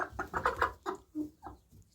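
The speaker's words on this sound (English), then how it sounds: "American Bresse hen." A splash American Bresse hen clucking softly up close, a short run of quick, throaty clucks and murmurs in an uneven rhythm, quiet and without speech.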